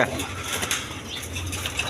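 Pigeons cooing nearby, soft low throaty coos repeating over faint clinks and patter, with no one talking.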